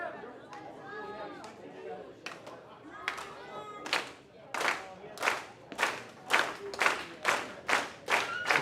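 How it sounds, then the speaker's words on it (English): Professional wrestling fans clap in unison, the rhythmic claps growing louder and steadier over crowd chatter and scattered shouts inside an arena. "The fans clap with anticipation."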